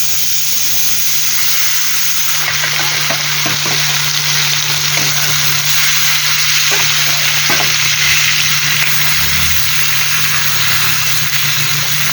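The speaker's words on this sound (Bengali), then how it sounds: "এদিকে বাউল মাছটা ভাজা হয়ে গেছে" Baul fish frying in hot oil, a loud, continuous hiss and crackle that barely changes, with a low steady hum underneath and a few faint knocks. No voices are heard.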